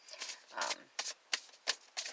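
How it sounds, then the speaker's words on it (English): A deck of tarot cards is shuffled in quick, irregular riffling bursts of papery flutter and soft slaps, close to the microphone and fairly quiet. "half of these cards are so difficult to shuffle"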